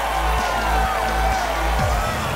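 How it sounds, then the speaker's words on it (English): Home crowd at a baseball game after a home run, a loud sustained roar of cheering and whoops filling the stadium while a rhythmic thumping repeats underneath. "That fires up the home crowd"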